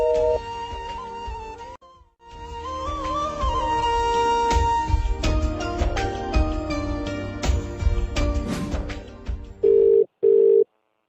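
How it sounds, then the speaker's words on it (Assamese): A telephone disconnect tone after a call is cut off in an Assamese radio love-story drama: two short, loud, steady beeps close together at the very end, following a long stretch of music. "হেল্ল' কিয় কাটি দিলা ফোনটো"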